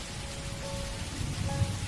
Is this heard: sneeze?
no